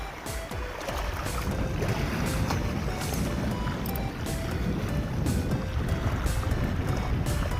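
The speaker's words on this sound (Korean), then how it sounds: "바람이 많이 붑니다" Strong wind gusting steadily across seaside rocks at a fishing spot, a continuous loud rush with buffeting on the microphone and a faint wash of water beneath.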